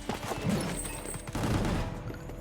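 Gunfire from the video game Gungrave G.O.R.E. rattles in dense, continuous bursts, loud and busy throughout.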